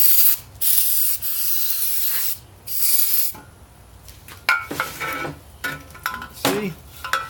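Brake parts cleaner sprays from an aerosol can in several close, loud hissing bursts while a Mini Getrag five-speed transmission is being assembled, followed by quieter rubbing and clattering of parts.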